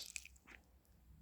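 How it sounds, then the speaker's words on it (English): Faint wet lapping and smacking of a dog drinking water, a few soft slurps close by, quiet and short. "it was one of our doggies having a little drink"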